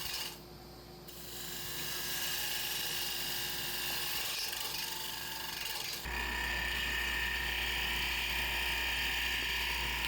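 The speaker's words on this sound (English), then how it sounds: "I'm using a spindle gouge" A wood lathe spins continuously while a spindle gouge shapes the outside of a turning, a steady close mechanical whir with scraping cut noise that shifts and brightens partway through.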